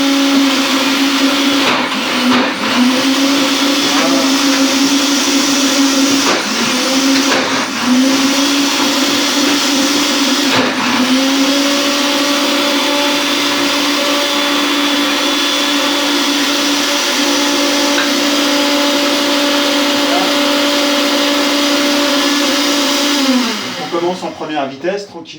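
A blender whirs steadily on its lowest speed, churning hummus made from chickpeas and cooking water, with a sustained motor hum, a few brief dips in load, and a winding down at the very end.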